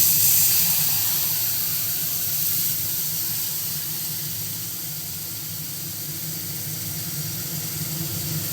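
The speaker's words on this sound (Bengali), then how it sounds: "আমি একটু জল দিয়ে নেব, নাহলে মশলাগুলো পুড়ে যাবে।" Water splashed into turmeric and Kashmiri red chili powder frying in a pan for pabda fish jhal, giving a steady, continuous hiss of steam that eases off slightly over time, with no voices.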